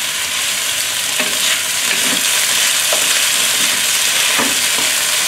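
Ginger and garlic stir-fry in a hot skillet for a healthy chicken and vegetable dish, giving a steady, loud sizzle that runs throughout, with occasional stirring scrapes and crackles near at hand.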